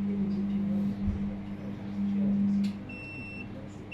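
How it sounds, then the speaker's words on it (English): A 20kVA servo voltage stabilizer gives an under-voltage alarm as input drops below 167 volts: a continuous low electronic buzz-tone holds for most of the clip, followed by faint high thin beeps, with no talking. "device gives under voltage alarm because our input voltage is under the limit, under the 167"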